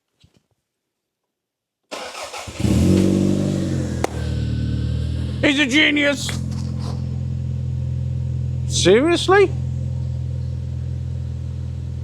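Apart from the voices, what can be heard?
car engine idling and revving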